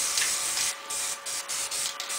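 Broadband hiss of white spray paint from an aerosol can, delivered in several short bursts with brief gaps between them, close and steady.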